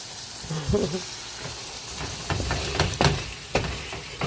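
A stir fry sizzles in a skillet with a continuous hiss, broken by scraping and stirring clatter and a few sharper pops, heard close up.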